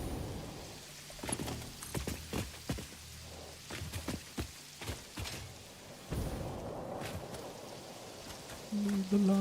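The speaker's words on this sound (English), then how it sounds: "Oh, it does sound like rain." Clunky, rain-like patter from the video game Satisfactory: a series of irregular thuds and taps at low level, with soft noise underneath and a brief tonal hum near the end.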